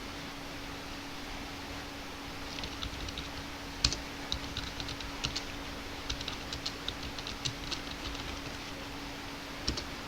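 Computer keyboard typing while working in Microsoft Word: light, scattered key clicks in irregular runs, quiet and close, over a steady low electrical hum with no talking.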